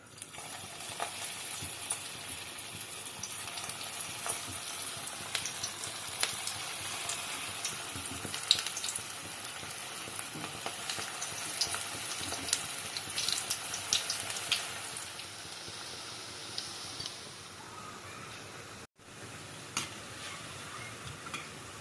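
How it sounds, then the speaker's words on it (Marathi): Cabbage balls for street-style veg manchurian deep-frying in hot oil, a soft continuous crackling sizzle with occasional stirring clicks and light watery bubbling, fairly quiet and steady with no voices. "गोळे आपले बनवून झाले आता मी तळून घेते"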